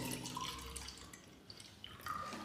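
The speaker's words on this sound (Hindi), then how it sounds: "देखिए अभी आपके सामने पानी डालते हैं" Water pours into a color-changing magic cup, a faint trickle and splash with a few brighter drips rising near the end, quiet and close.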